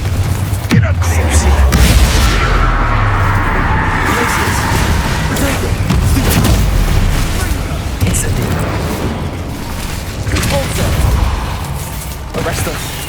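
Repeated Confringo fire-spell explosions in Hogwarts Legacy on PS5, loud deep booms and blasts with crackling bursts that keep going, mixed with game sound effects and a voice.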